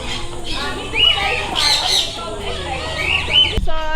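A pet green-cheeked parrot lets out several loud, shrill squawks close to the mic, with a short burst of chatter near the end.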